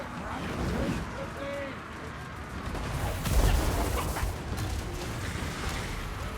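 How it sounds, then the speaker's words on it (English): Cannon blasts and crossbow volleys from a Total War: Warhammer 2 battle, dwarf cannons and quarrellers firing on Skaven ranks, a steady rumble of fire with a louder burst midway, mixed under continuous talk. "The Zuffbar cannons carving their way through those Storm Vermin and Clan Rats, and then the Quarrelers chasing them off with concentrated Quarreler Fire"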